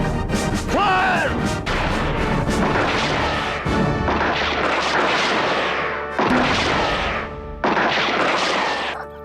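Loud volleys of gunfire crash out several times, each burst roughly two seconds apart over a dense, roaring background.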